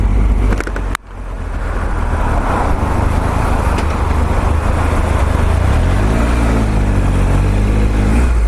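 A Triumph Tiger Explorer motorcycle filters through traffic, its engine a loud, steady drone that dips briefly early on and then holds a constant rumble close up.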